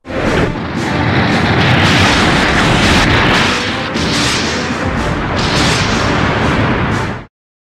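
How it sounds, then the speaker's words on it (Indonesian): Loud, roaring blasts of Godzilla's atomic beam striking Super Mechagodzilla merge into heavy explosions, a dense sustained rumble with bursts swelling and fading. "dia mulai menembakkan sinar atomnya ke Super Mechagodzilla sampai Super Mechagodzilla langsung meledak"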